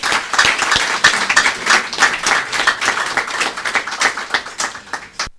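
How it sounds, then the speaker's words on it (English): A seated audience claps steadily for a professor being honoured at a formal gathering, a dense, continuous patter of many hands, fairly close and loud, lasting the whole stretch before it cuts off abruptly. "Let's clap for him."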